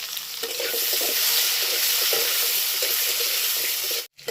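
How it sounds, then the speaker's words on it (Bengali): Potatoes and beans fry in hot oil with a loud, continuous sizzle, broken by several short scraping stirs before the sound drops out briefly at the end. "তো হালকা ভেজে নিই"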